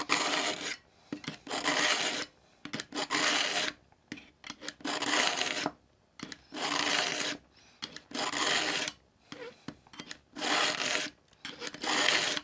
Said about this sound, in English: The more times I pull through, the better that sound gets